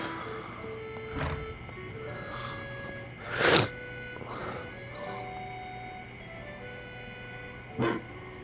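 In the video game Trails beyond the Horizon, a dog-like creature gives a few scattered barks and yips over steady background game music and tones, one bark near the middle louder than the rest.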